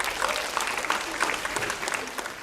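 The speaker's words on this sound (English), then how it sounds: "Please give them one more round of applause." Audience applause at a Year 5 school music concert, a dense crowd of hands clapping steadily and fairly close throughout a short burst.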